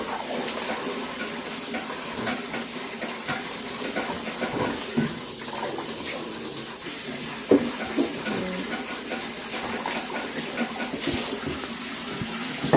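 Tap water runs steadily into a newly installed sink, a hissing gush with small splashes and clatters on top, continuous and close, with no talk over it.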